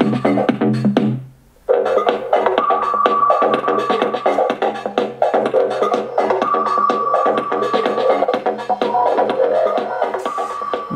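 Bass-heavy electronic music plays at maximum volume from an original JBL Go Bluetooth speaker, a steady thumping beat with sustained tones, briefly dropping out near the start before resuming loud and continuous.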